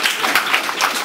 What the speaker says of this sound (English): So everybody please give a loud set of applause for Mr. James for helping us.